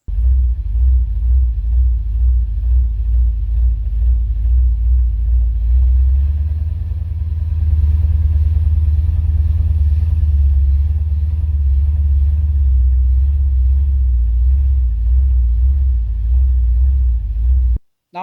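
A 1984 Dodge Ram D150 with a retrofit EFI setup runs rough at idle, misfiring, as a steady low engine rumble with an uneven, lumpy pulse that holds loud and close for the whole stretch before cutting off at the end.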